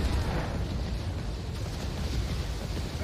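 Ship cannons fire in Assassin's Creed IV Black Flag, a sustained rumbling barrage of deep booms blending into a continuous roar of explosions and debris.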